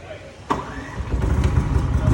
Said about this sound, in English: Battery and recoil start generator set. See how to start and operate it.